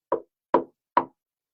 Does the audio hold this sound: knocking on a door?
yes